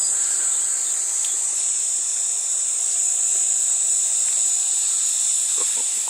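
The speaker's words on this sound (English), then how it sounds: "Kind of sounds like cicadas, but I'm sure they're called something else here." A steady, high-pitched insect drone buzzes continuously throughout, cicada-like, over Namibian grassland, with faint scattered clicks and rustles beneath it.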